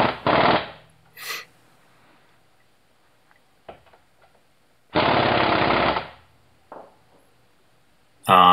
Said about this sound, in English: I take my impact gun on the lowest setting.